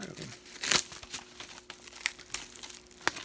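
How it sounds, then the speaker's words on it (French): A S.W.A.T. Season 2 DVD box set is unwrapped, with sharp crinkling and tearing of plastic film in irregular bursts, close to the microphone, and a faint voice in the background. "Je vais vous déballer le coffret, je vais vous montrer l'intérieur."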